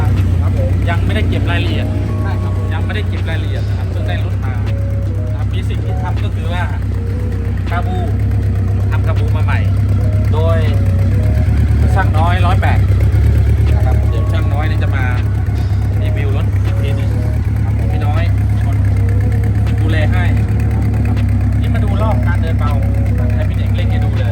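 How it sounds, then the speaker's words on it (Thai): A Honda CBX750 Police motorcycle with a 750 cc four-valve engine idles at low revs, a steady quiet rumble running the whole time under someone talking. "ตัวนี้750ซีซี นะครับเนี่ยนะครับ เครื่องยนต์เงียบมาก"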